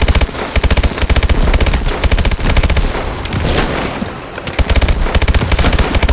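Loud, rapid automatic gunfire from Call of Duty Advanced Warfare rattles almost continuously in dense bursts, with a brief lull in the middle before the volleys resume.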